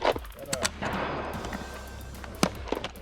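Gunfire on an outdoor high power rifle range during a shooting match, several sharp reports spread across the clip, some near and loud, others more distant, over a steady background rumble.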